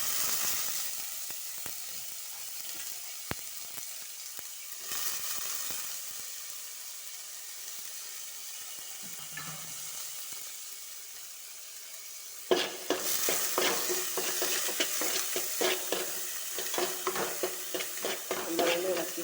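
Carrot, ginger, green chili and curry leaves frying in a pan for carrot upma, with a quiet sizzle and a few stirring scrapes at first, then louder, busier crackling and repeated spoon-against-pan scraping.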